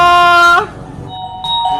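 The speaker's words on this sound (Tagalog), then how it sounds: "Tumutunog yung doorbell?" A doorbell sounds twice inside a home, a bright multi-tone chime followed by a second, shorter ring after a brief pause, close and loud.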